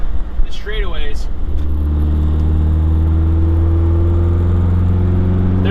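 A Mazdaspeed 3 fitted with a BNR S5 big turbo running 25 psi pulls hard in gear, its loud steady engine drone filling the cabin after a brief spoken voice at the start.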